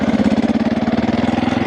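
A KTM 450 EXC dirt bike engine idles nearby with a loud, steady, pulsing thump-thump rhythm and no voices over it.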